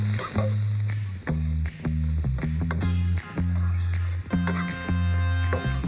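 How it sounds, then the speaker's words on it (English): Ingredients frying in leftover bacon fat in a wok for bacon-and-scallion fried rice, a steady loud sizzle with occasional stirring scrapes, under background music. "Using your leftover bacon fat to fry up other ingredients will really up the dish."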